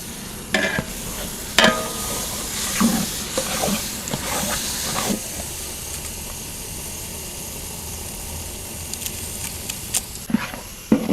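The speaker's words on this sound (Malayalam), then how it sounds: "ഉള്ളി നന്നായി വണക്കിയെടുത്തത്." Onions sauté in a pan for fish biryani, with a steady sizzle and hiss broken by the scrape and clatter of stirring.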